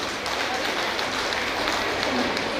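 An audience in a hall at a public nutrition programme event applauds, a dense continuous wash of many hands clapping at a steady level throughout.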